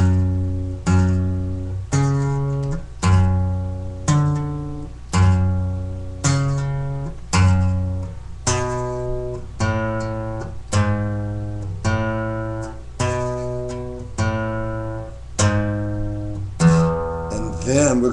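Electric guitar repeating the first part of a lick, a steady series of picked single notes and low open-string pulses, close and clear throughout.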